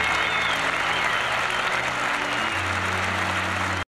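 Cricket crowd applauding a century in the 1993 English season, a dense, loud, sustained wash of clapping with no pause, ending abruptly.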